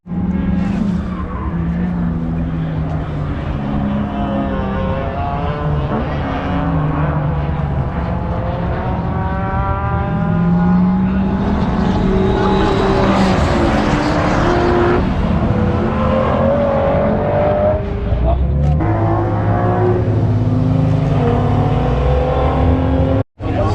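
A race car on a track day circuit, with sustained loud engine roar and shifting pitch as it accelerates, joined by tire squeal and skidding, continuous throughout.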